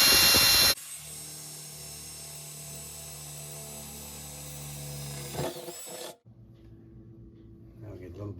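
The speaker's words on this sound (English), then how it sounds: "Starting off with the smaller bit, like I said, just for the pilot hole." A power drill with a small bit bores a pilot hole in a stainless steel kitchen sink: a steady, droning motor whine runs for several seconds after a loud opening burst, then cuts off, leaving quieter handling sounds.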